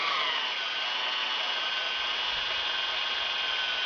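A hand-held power drill whines steadily at high pitch as it bores into metal under firm pressure, a constant close motor tone with no pauses.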